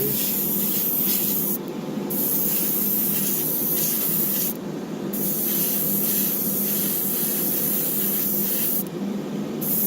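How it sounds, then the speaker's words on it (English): A spray gun lays a wet coat of paint on a Lamborghini Miura model car. The hiss is steady and close, broken by three brief pauses, with no talking. "Now I got to shoot this thing where I can put a nice wet coat on here."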